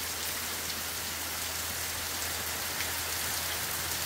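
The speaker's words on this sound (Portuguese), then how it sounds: "Já tem uns 5 minutos de chuva" Rain pattering onto dry leaves outdoors, a dense, even hiss of drops with faint individual taps, steady and close throughout with no voices.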